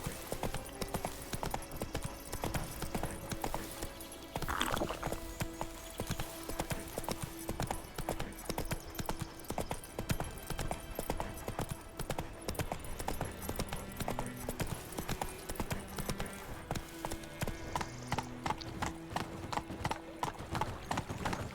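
Steady clip-clopping hooves of a ridden horse in The Witcher 3, continuous and close for the whole stretch, sitting under game music and ambience.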